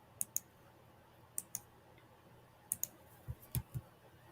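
A handful of sharp, faint mouse clicks on a copy button at a computer, coming singly and in quick pairs spaced across a few seconds against a quiet background.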